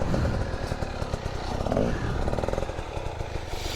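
A dirt bike engine revs and drones steadily throughout on an enduro trail ride, with rough clattering texture and no clear talk over it.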